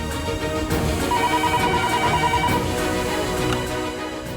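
A telephone rings repeatedly in a steady electronic pattern, fairly loud and close, with no one speaking.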